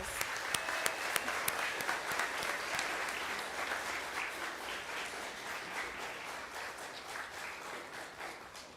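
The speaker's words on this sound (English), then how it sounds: "let's give yourself and the teachers and staff at your school a round of applause" Sustained applause at a 5th grade elementary school graduation, a dense, fairly loud crowd of clapping hands with a few sharp individual claps near the start, holding steady before tapering slightly.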